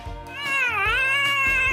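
A cat meows loudly and close up while playing with a nylon bag, one long drawn-out call that rises and falls, with soft low thumps underneath.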